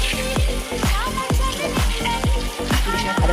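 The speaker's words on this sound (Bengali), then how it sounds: "ইলিশ মাছ ভাজা চলছে" Hilsa fish fries in hot mustard oil with a dried red chilli in a kadai, making a loud, constant sizzle broken by regular deep thudding pulses about twice a second.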